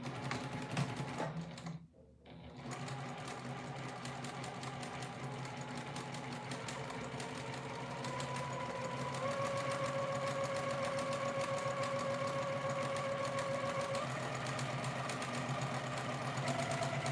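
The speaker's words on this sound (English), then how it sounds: "So I had to do all the extra things to edge stitch along this folded curve edge." A sewing machine edge stitches along a folded, curved edge of an overalls bib facing, running in a steady close mechanical whir with a brief stop near the start before stitching resumes.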